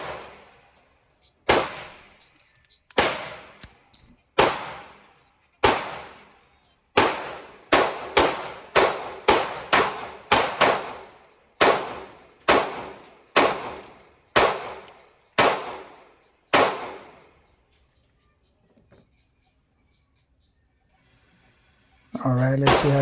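A Canik MC9L pistol fires at targets, about sixteen sharp, loud shots in an irregular but quick series, each with a short ringing decay, followed by a quiet pause and a burst of noise at the end.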